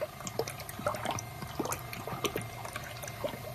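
Water rushing and gurgling through a racing car's cooling system with an aftermarket radiator and top hose, a steady splashing flow with small bubbling pops, close and moderately loud, no voices.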